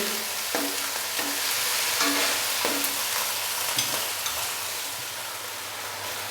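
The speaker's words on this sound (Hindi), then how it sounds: "अच्छे से मिक्स करेंगे और हल्का सा हम इसको फ्राई कर लेंगे।" Ginger, garlic and green chili paste fries in hot oil with a steady, loud sizzle, while a spoon stirs and scrapes the pan several times.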